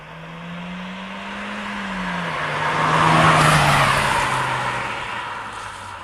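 VW Golf GTI 25th Anniversary driven on the road, engine note holding steady then dropping as it shifts, with tyre and wind roar swelling as the car gathers pace and then easing off.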